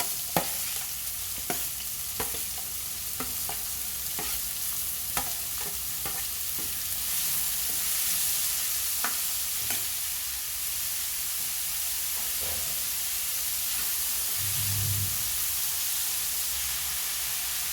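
Onion pieces fry in a pan alongside green chillies, producing a continuous sizzle with regular scraping stirs every second or so, close and fairly loud, with no voices.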